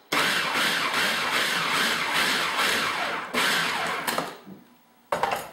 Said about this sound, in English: I just chopped them or pulsed it a couple times in the food processor